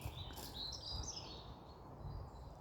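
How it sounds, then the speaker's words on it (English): Birds sing on a February evening in the gardens of Madingley Hall near Cambridge, faint high chirps and short warbled phrases over a quiet, low background hum. "evening song by the birds"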